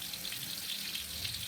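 Blended chili and shallot paste sizzles in vegetable oil in a frying pan, a steady, soft, continuous hiss and crackle heard close with no talking.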